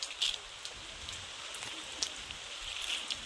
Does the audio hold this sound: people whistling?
no